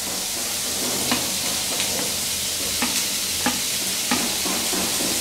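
Dried kachki fish frying with sliced green chillies and finely chopped potatoes, a steady loud sizzle broken by about six sharp scrapes of stirring at roughly even intervals, close by.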